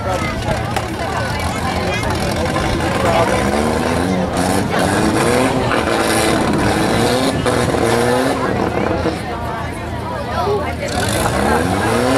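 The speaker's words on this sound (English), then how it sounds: "we got 16 4-cylinders entering the ring here." Sixteen four-cylinder cars entering a demolition derby ring at a fair roar and drone together in a loud, continuous racket, with revving and occasional tire noise, and a voice talking over it.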